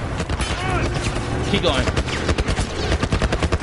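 Rapid, dense gunfire from the video game The Last of Us, continuous overlapping shots that are loud and up close, with a voice talking briefly over the firing.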